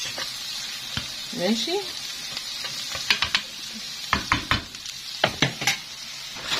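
Meat and peppers sizzle steadily in a hot pan while being stir-fried, with repeated sharp clacks of a utensil scraping and stirring, close up, and a brief spoken word partway through.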